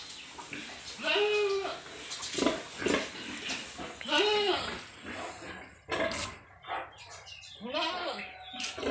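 Landrace pig on a farm grunting in several repeated bursts, fairly close, with other farm animal noises and background activity between the calls.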